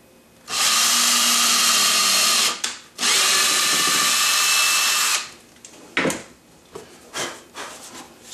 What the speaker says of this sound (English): So then all the holes are drilled.